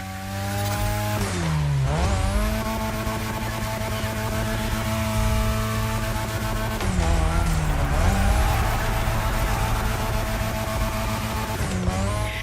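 A car drifts around a drift track in The Crew Motorfest, its engine revving high and steady with pitch dipping on gear changes and tires squealing, loud and continuous for about twelve seconds.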